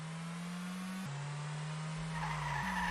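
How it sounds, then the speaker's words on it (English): The Courgette car in the racing game Musclecar Online, running slick tires, slides and skids with a loud continuous tire squeal over a steady engine drone that shifts pitch in steps. "Even with the slick tires on, it just slides way too much."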